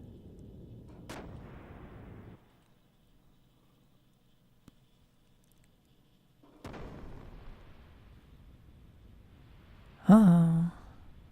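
A ship's gunner fires cannons in the video game Xenogears, two deep booming shots several seconds apart with rumbling tails, followed by a brief higher-pitched burst near the end; no talking.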